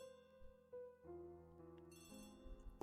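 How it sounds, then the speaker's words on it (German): A telephone rings in a quiet room with a steady tonal, musical ring pattern, faint and alone with no talk. "the telephone"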